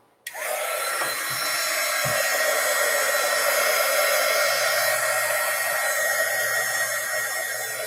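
A hair dryer switches on and blows loudly and steadily at close range with a constant whirring roar, drying a painted paper bag journal page; nothing else is heard over it.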